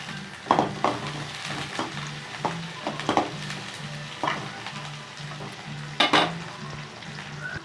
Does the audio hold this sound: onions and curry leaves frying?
yes